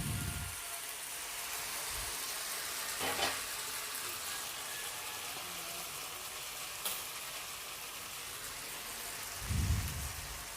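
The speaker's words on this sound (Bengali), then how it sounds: "এরপর আমি কড়ার মধ্যে ওই পটলের দানার পেস্টগুলো আমি দিয়ে দিলাম দিয়ে এটাকে আমি একটু ভাজবো" Pointed gourd seed paste frying in oil in a kadai, a soft, steady hiss like light rain, with a few brief stirring knocks and no voices.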